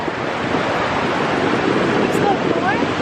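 Ocean waves wash up on a beach in a steady, loud roar of surf mixed with wind noise, continuous with no breaks.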